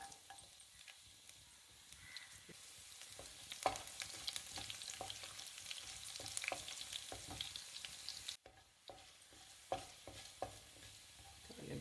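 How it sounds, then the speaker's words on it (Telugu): Cumin seeds, mustard seeds and garlic pieces sizzle and crackle steadily in hot oil for a Telugu bendakaya and baby corn fry, with sharp pops and occasional stirring clatter close up, no talking. "ఆయిల్ వేడైంది జీలకర్ర ఆవాలు వేసేసుకోండి వెల్లుల్లిపాయ ముక్కలు"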